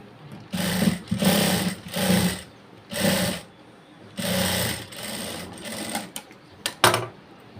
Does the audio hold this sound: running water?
no